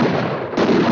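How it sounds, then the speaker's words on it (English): Two heavy, booming blasts from a shotgun in the horror game Harvester land close and loud, the second following about half a second after the first. "I'm supposed to get my shotgun out and blast his face."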